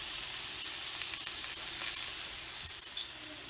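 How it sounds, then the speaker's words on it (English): Onions sizzling steadily in a hot pan for fajitas, a close, continuous frying hiss with no talking. "Now you cook the onions for about 2 or 3 minutes."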